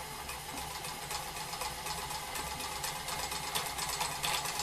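A variable speed lathe running at speed setting 2 and vibrating, giving a steady mechanical hum with a rough rattling buzz that holds at an even level with no talk.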